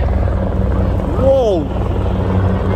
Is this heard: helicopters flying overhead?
yes